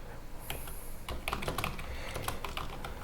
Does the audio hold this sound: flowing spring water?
no